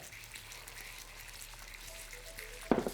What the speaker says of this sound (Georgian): სანამ თევზი იწვება